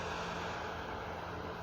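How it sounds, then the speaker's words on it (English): A plane flying overhead in Utah, a faint steady engine drone with a constant low hum, distant and unbroken. "it's a plane."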